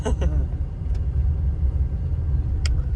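A tractor engine revs steadily with a loud, close, low rumble during a driving lesson, and a voice briefly sounds at the start.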